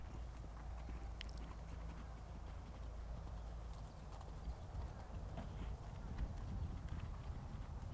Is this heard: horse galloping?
yes